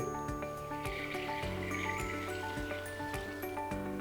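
Stirred water poured into a fermentation bucket filled with two kilograms of jackfruit peel, a steady close splashing pour running without a break, with no voices.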